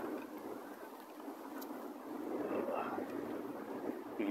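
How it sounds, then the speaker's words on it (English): Strong wind blowing hard on a hilly lookout track, a broad steady rush that swells slightly toward the end, close to the microphone with no clear speech. "that wind's blowing hard."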